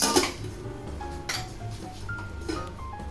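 A lid set onto a cooking pot on a gas stove, with a few light metallic clinks and clatters against a low steady background hum.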